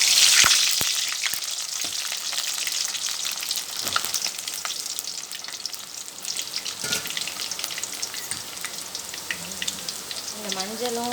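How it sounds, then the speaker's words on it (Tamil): Snake gourd chips fry in hot oil, a dense, steady close sizzle with crackling pops throughout, a few louder spits along the way, while someone talks briefly over it. "கொஞ்சம் கொஞ்சமாக போட்டு பொரிச்சுக்கோங்க"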